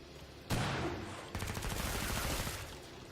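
Rapid automatic gunfire from a weapon in the video game Killing Floor 2, with a sharp single blast followed by a sustained burst of fast, loud, evenly spaced shots with no voices.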